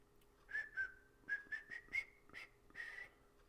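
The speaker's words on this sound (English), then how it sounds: "Sometimes you just gotta whistle to lighten the mood." A person whistles a short, lilting tune alone, a string of about eight bright notes with slight slides between them, close and fairly soft over a quiet room hum.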